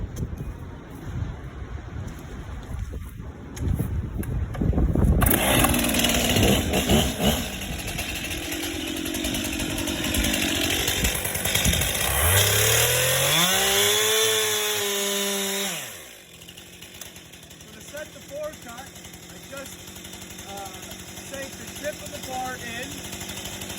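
Chainsaw boring a plunge cut into wood: engine idles, then revs hard into a long loud cutting stretch, winds down and drops back to a low idle.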